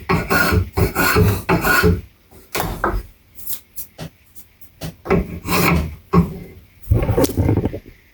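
Rasping, rubbing strokes of a file or abrasive smoothing the facets of an octagonal wooden piece, coming in bursts of repeated passes with short pauses between them, close and fairly loud.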